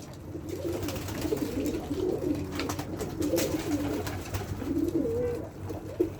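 A tumbler pigeon coos in repeated soft, throaty phrases at close range over a steady low background hum, with no voices.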